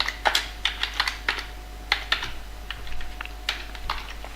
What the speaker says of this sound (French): je peux taper mon premier programme, hein, print hello world toujours, je vais taper ça